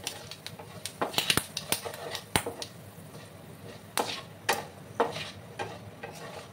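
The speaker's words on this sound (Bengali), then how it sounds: "ফোড়নটাকে ভালো করে ভেজে নিতে হবে।" Panch phoron spices fry in hot oil for a Bengali pumpkin curry, giving scattered sharp pops and crackles over a soft sizzle, with a few louder bursts and no voices.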